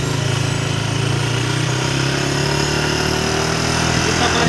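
Yamaha NMAX 155cc scooter engine running steadily, a continuous mid-pitched hum with a slowly rising tone, close and loud throughout with no talk.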